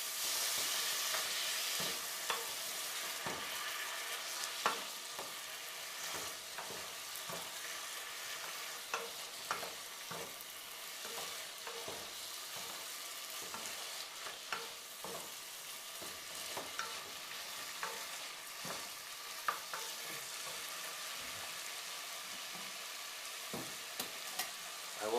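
Tomato sauce being stirred into paella frying in a pan, a constant bright sizzle with soft scraping stir strokes and occasional small pops, close and steady without speech.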